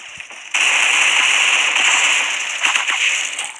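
Rapid, sustained gunfire from an AK-47 in the mobile shooter game Critical Ops bursts in after a brief lull and holds as a loud, dense crackle for about three seconds before easing slightly.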